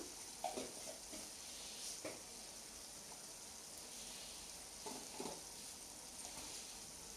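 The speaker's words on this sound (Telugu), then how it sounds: "ఆయిల్ వేడెక్కిన తర్వాత దాంట్లోకి ఆవాలు," Mustard seeds sizzling in hot oil while cooking Telugu telagapindi curry, a steady soft crackling hiss with a few faint scraping stirs.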